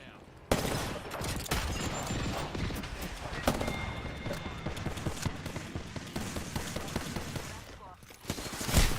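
Gunfire in the Apex Legends video game, sustained rapid shots running through most of the stretch, fairly loud and dense, with a louder burst near the end.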